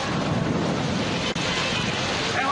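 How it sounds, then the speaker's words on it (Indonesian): A heavy rainstorm with strong wind in Bandung, Indonesia, makes a dense, steady roar of rain and gusts that fills the whole stretch without a break. "Inilah suasana hujan besar yang disertai badai."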